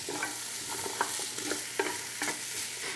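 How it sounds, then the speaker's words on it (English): Chopped white onion and carrots sauteing in a pan, a continuous soft sizzle broken by several crisp scraping strokes of stirring, close and fairly quiet with no talk. "So we're just going to go ahead and saute this until the veggies kind of start to soften just a little bit."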